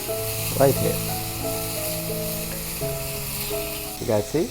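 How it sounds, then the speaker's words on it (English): Bell peppers and onion sauteing in a pan over a high flame, a steady sizzle running throughout beneath a person talking. "we will saute our bell peppers and onion at least for 5 minutes on a high flame"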